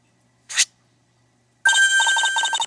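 Cell phone ringing in the Nintendo DS game Miles Edgeworth Ace Attorney Investigations: a short electronic chirp, then a loud repeating pulsed ringtone melody with a steady beep tone over it, heard alone without talk.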